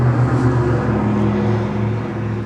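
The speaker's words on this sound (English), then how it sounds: "Wow, the traffic out there is super loud" Loud road traffic outside, a continuous heavy engine rumble and drone of passing vehicles that swells and fades slightly, steady and close, no talking.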